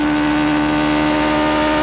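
A 1991 Toyota Atlantic race car engine at the Long Beach street circuit gives a sustained, loud, high-pitched droning whine held at steady revs throughout, with no voices.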